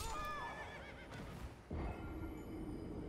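A horse in the video game Elden Ring neighs after a drop, a loud wavering whinny at the start followed by lower snorting and rustling, with game ambience continuing alone.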